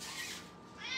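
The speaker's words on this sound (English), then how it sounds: "Here comes the kitty." A house cat lets out a short meow, then a second brief call about a second later, close by in a kitchen and fairly soft.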